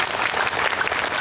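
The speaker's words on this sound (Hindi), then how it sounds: "तो बाबा साहब के लिए जरा जोरदार ताली।" Audience applause at a public speech honouring the Indian Constitution and Babasaheb Ambedkar, a dense, steady burst of many hands clapping at close range, with no talking over it.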